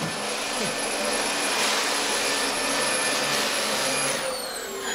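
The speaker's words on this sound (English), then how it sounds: "decided to start vacuuming at 2 a.m." A vacuum cleaner running indoors in the middle of the night, a loud steady whooshing motor roar with a thin whine on top, close and unbroken, its pitch shifting slightly near the end.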